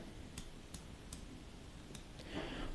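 Rotating bezel on a Citizen Ecozilla Godzilla Professional Diver 300m watch, turned by hand, giving faint, crisp ratchet clicks at a steady, evenly spaced pace over a low background hiss.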